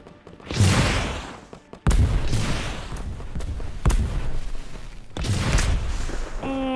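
Heavy units fire in the arena mode of the video game Silica: slow, booming artillery-like shots land a few seconds apart, each a loud blast with a rolling tail, and a brief electronic tone closes the sequence.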